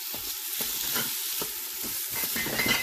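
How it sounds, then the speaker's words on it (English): Ground beef sautéing in an Instant Pot for pasta goulash, a steady close sizzle with scraping stirs breaking through every half second or so, no voices. "So I'm just going to saute this"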